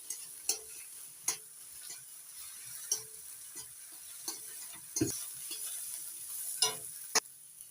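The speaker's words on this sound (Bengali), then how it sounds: "নাড়াচাড়া করে ডিম ভালো করে ভেজে নিচ্ছি মশলার সঙ্গে" Egg frying with spices in a pan, stirred now and then, makes a soft steady sizzle broken by sharp clinks and scrapes of the utensil against the pan, close by and without speech.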